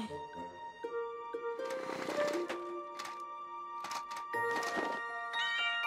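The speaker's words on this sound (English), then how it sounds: "It was just Kitten all along" A kitten in a children's cartoon meows several times in short, high calls over light background music.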